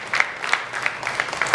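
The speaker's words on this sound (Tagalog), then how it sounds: "Ano, malakas ang palakpak." A church congregation claps during a Sunday service, light scattered hand claps in a loose, uneven rhythm that stays fairly soft and brief, with no voices.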